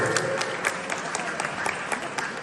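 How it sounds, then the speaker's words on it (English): Audience applause at a 20th anniversary dinner dance in Perth, a steady crowd clapping filling the room after the emcee's call, continuous and fairly even throughout. "can we have a round of applause for your MC, Narindu?"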